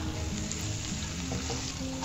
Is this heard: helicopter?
no